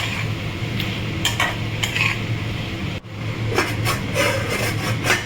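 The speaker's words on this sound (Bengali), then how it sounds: "ঢাকা দিয়ে ভালো করে নাড়িয়ে নেবে, মিক্স করে নেবে।" Hilsa fish head is stirred with taro stems (kochur data) and Kashmiri chili powder in a pan, giving a steady scraping, rubbing texture. Several sharper utensil knocks against the pan land over a continuous low stove hum.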